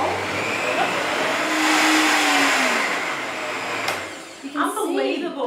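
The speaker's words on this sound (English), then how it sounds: "pop that on, lid on, really tight this time. And we blend again for about 30 seconds." Blender running on raw black sesame ice cream with the lid on tight, a steady loud whirring motor hum held for several seconds before it winds down, with a voice speaking near the end.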